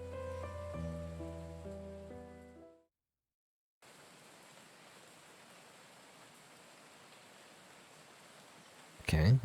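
Steady rain in the video game Jumping at Shadows, a broad even hiss that starts after a short stretch of game music and silence and runs alone to the end.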